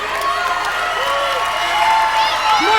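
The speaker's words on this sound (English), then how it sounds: "More applause." Audience applause and cheering at a live beauty pageant show, a steady crowd roar with scattered whoops and shouts throughout, loud and sustained.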